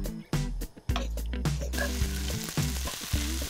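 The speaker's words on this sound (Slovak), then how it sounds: "Preplachnuté rezance si pridáme do našej brokolicovo-lososovej zmesi a ešte rýchlo opečieme." Rice noodles stir-fried in a pan with broccoli and salmon, a loud steady sizzle broken by several scraping, tossing stirs of the food, with no one speaking.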